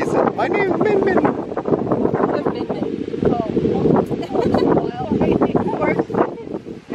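Wind gusting steadily across the microphone at a dog-friendly beach in Clearwater, Florida, a loud rumbling buffet that continues through the whole stretch while people talk over it.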